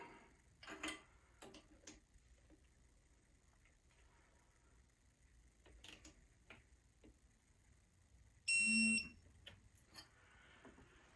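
Torque wrench clicking as engine cam bolts are tightened during a K20/K24 engine build: several sharp, isolated clicks spread across a quiet workshop, then a brief louder ringing burst near the end, with no talking.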